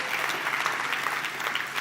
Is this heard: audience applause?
yes